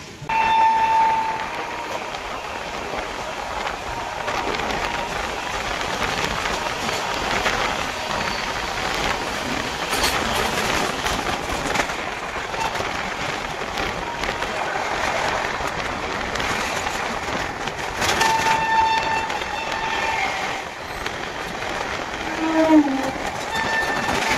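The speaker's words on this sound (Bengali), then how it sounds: "দার্জিলিং মেল কিন্তু ছেড়ে দিল তার নির্ধারিত টাইম।" The Darjeeling Mail runs steadily in a long, continuous rumble heard from on board, with rhythmic wheel clatter and occasional faint whistle-like tones.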